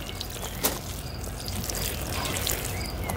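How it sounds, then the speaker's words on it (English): Water poured onto freshly planted corn seeds in garden soil, a soft continuous trickle with a brief splash near the start, quiet outdoors with faint background birds and insects. "Add some water."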